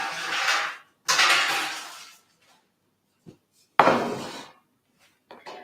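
Paper cheesecake cupcake cases filled with baked vanilla cheesecake mix set down onto a small baking tray, three clattering metallic scrapes and knocks with quiet gaps between, plus a couple of faint taps.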